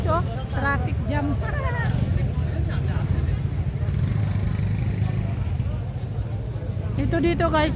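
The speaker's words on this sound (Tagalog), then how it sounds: "Traffic jam." Traffic jam on a busy street in Kathmandu's New Road market area, a dense rumble of engines with occasional horn honks, while someone talks over it throughout.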